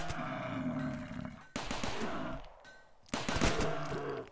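Gunfire in the video game RimWorld rings out in loud, roaring bursts, with two sharp new volleys breaking in over a sustained rumble of shooting.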